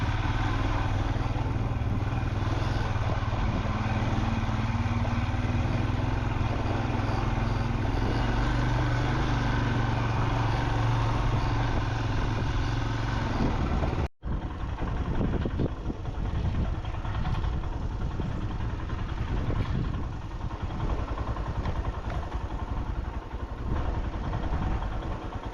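A Royal Enfield Himalayan motorcycle rides off-road through pine trees near Ribba in Kinnaur, Himachal, its engine running steadily and loud throughout, with a brief dropout midway and rough clattering texture afterward.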